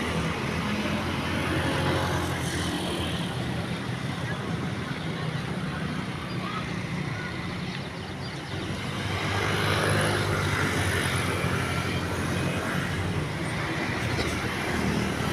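A Bellatrix premium intercity bus pulls out of Karang Pucung terminal in Cilacap, giving a steady loud engine roar and road rumble that swells slightly later on, with traffic noise around it.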